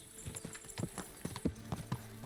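Horses galloping in a race in the video game Kingdom Come: Deliverance II, with rhythmic hoofbeat clip-clops in quick repeated clusters, fairly close but soft in level, with no talk.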